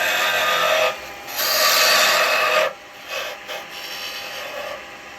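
Ashley Iles skew chisel shaving spinning wood on a lathe, a close, loud rasping hiss in several bursts broken by short pauses.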